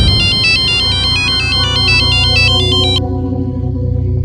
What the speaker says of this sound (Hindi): मुझे साहब का फोन आया।